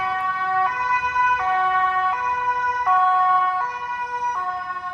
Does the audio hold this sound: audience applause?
no